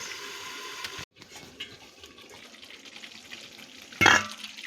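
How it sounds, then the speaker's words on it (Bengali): Mutton curry with ground spices stirred in a pot, wet squelching and scraping of meat in its released juices, soft and intermittent, with a sharper clatter near the end. "মাংস থেকে অনেকটা জল ছেড়েছে, আমি আবার সব মিশিয়ে দিচ্ছি"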